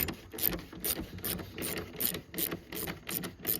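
Close ratchet clicks come as 7 mm headlight bolts are loosened on a Ford 6.0 Power Stroke truck, a steady rhythm of short clicking bursts with no talking.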